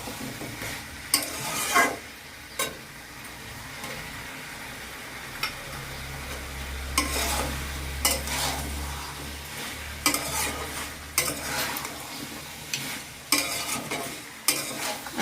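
Desi country chicken with spices is stir-fried in a pan, repeated scraping stirs rising over a steady close sizzle, with a brief low rumble partway through and no speech.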